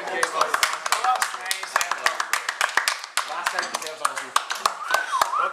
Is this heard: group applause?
yes